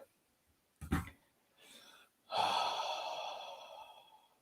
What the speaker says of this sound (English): Take another, take a deep breath.